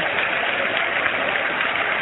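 A church congregation keeps clapping in praise, producing a continuous, even roar of many hands that stays at constant volume from start to finish.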